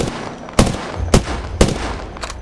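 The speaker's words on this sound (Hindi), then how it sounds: "कौन सी गन चला रहा है?" Gunfire in a PUBG-style battle royale match: three sharp, loud shots spaced about half a second apart, followed by a fainter fourth shot, all standing out over a low background rumble.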